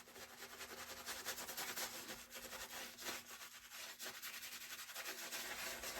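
A shaving brush works Phoenix Shaving soap into a lather directly on the face, giving close, steady scratchy rubbing in quick back-and-forth swirls with no talk.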